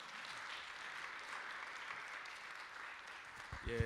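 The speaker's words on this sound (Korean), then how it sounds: "여러분 박수로 축하해 주시고 격려해 주세요" A church congregation claps in a soft, distant, steady patter that stays quiet and even throughout, ending with a brief low thump.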